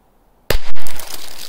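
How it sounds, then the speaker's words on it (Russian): A small firecracker explodes with a sudden loud sharp bang out of silence, followed by a second crackling pop and a lingering rattle of debris. "Вот такие взрывы получились."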